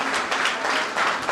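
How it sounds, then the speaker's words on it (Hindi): An audience at an award ceremony claps in a continuous, dense burst of applause that is loud and close, with no voices standing out. "तालियों की गड़गड़ाहट न रुके।"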